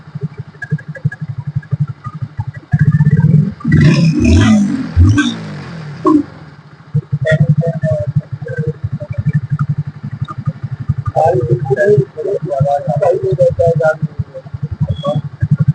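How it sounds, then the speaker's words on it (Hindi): Motorcycle engine idling and running steadily with a low, continuous mid-range drone and some clatter, rising briefly louder midway, while people talk nearby. "अभी ऑयल चढ़ेगा, गाड़ी का साउंड कम हो जाएगा।"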